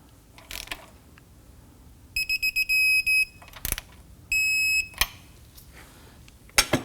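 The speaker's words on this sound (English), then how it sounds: "Let's go ahead and torque this down to 33 foot-pounds." A torque wrench tightens an inner tie rod on a 2015-2024 Nissan Murano, with a run of quick ratchet clicks and sharp electronic beeps in two bursts, plus scattered metallic clanks, close and otherwise quiet.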